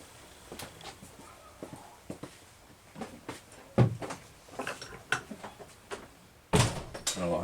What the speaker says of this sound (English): let me catch this door.